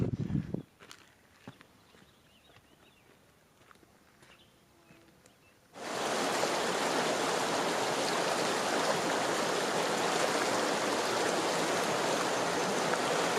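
After a few footsteps and light movement, a large creek on the Colorado Trail flows loudly and steadily, a broad rushing wash of water filling the rest of the clip.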